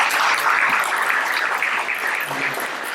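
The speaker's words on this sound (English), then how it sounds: "Let's give them a round of applause" A room full of people applauding the planning committee, a steady wash of hand clapping that holds at an even level for the whole stretch before tapering slightly.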